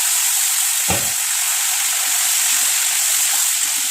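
Potatoes fry in a Gobindobhog rice tempering, producing a loud, constant hissing sizzle broken by one sharp scrape or thud early on, with no voices.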